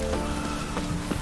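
Rain falls steadily in The Witcher 3 game world, a continuous broadband patter with soft surface hiss and faint low ambient tones beneath, no voices present.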